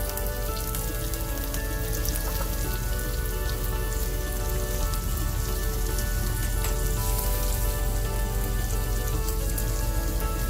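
Chopped tomato, peppercorns, turmeric and coriander powders sizzle steadily in a hot pan, a dense, continuous crackling hiss that stays even and close throughout with no voices.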